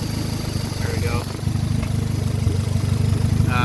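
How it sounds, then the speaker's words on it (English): A Honda Accord CB7 with a DSM turbo engine swap idles on a base map with a small vacuum leak, giving a steady, slightly uneven low rumble up close while a voice talks over it. "Right now it is idling, and it has to idle with a little bit of a vacuum leak because it is a base map after all."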